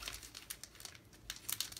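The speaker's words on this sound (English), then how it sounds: "let me go ahead and open this up. If I can find an opening." Crinkly plastic packaging around a small pack of stickers being pulled open by hand, giving close, irregular crackling and crinkling bursts with brief pauses and no talking.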